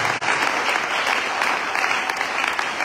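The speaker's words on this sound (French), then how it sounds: "Si c'est toi, acclame très fort, acclame très fort" Loud, dense applause from a church congregation fills the whole stretch, steady and close with no pauses.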